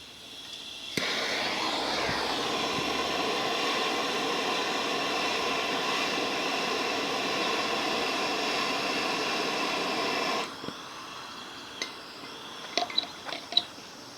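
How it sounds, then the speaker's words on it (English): A small air compressor runs in a steady, continuous hum for about ten seconds, feeding an air line to a homemade cold smoker, then cuts off, leaving a few faint clicks and taps. "So I've got basically 10 psi coming off the compressor"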